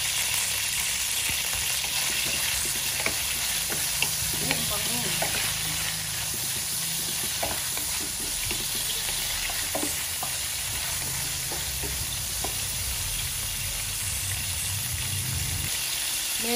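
Pork sautés in a pan with a steady, close sizzle and hiss and occasional stirring scrapes, frying continuously throughout with no talk.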